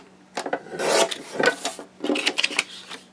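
Card stock from a 12 x 12 sheet being cut on a paper trimmer, heard as a few close, rasping scraping strokes in irregular bursts, with no talking.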